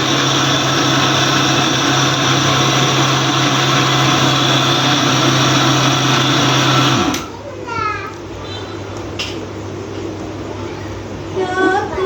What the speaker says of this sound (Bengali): মা হলো যে এই চালটারে ব্লেন্ডার করতেছে